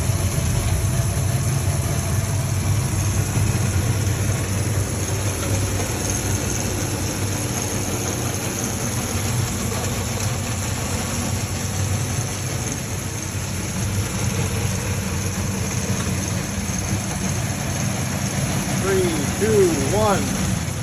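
Two silver pumps on a National shoe shine machine running, a loud steady mechanical drone with low rumble and constant hiss that carries on unbroken throughout.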